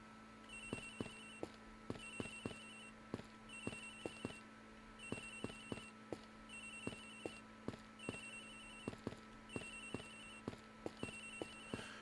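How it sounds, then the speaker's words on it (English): A telephone rings inside the Ace Attorney Investigations video game, a repeating electronic bell pattern in steady bursts across the whole stretch, fairly faint and heard without any talk. "Agent X's phone's ringing from somewhere, sir."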